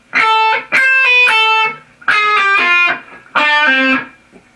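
Electric guitar with distortion playing a lick slowed down: three loud phrases of quick pull-off and slide notes separated by short gaps, played alone.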